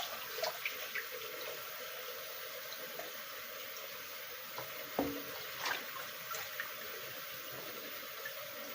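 Cold water runs steadily from a tap into a sink, a continuous close hiss with a few small clinks and splashes, no talking.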